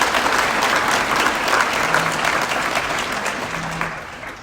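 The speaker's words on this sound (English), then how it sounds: "Let's give these people a round of applause." A large audience claps at a nursing graduation ceremony, a loud sustained round of applause that holds steady and slowly tapers toward the end.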